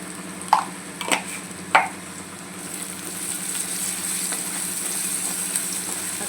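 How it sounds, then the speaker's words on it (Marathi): Onion fries in a pan for a potato and spinach sabzi, opening with a few sharp utensil clinks before settling into an even, close sizzle with no talking. "कांदा पण चांगला मस्त असं शिजवून घ्यायचं"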